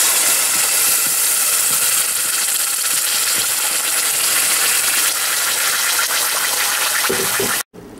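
Gravy seasoned with coriander powder, cumin and red chili powder sizzling in a pan gives a loud, continuous hiss and bubbling, cutting out abruptly near the end.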